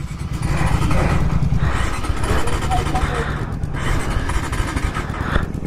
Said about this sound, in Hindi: यार मेरी बाइक स्टार्ट नहीं हो रही अब।